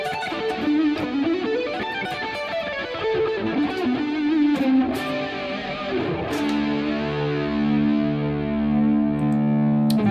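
Electric guitar played through distortion and chorus pedals into a twin reverb amp, loud sustained overdriven notes and bends with a shimmering chorus sweep, ending on a long ringing held chord.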